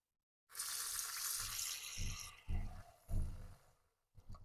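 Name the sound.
running tap water in a sink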